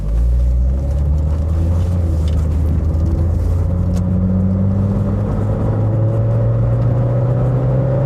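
Citroën ZX Volcane with automatic gearbox driving on the road while holding a gear, a loud steady engine drone and low rumble from inside the cabin with slowly rising and falling pitch, no talking.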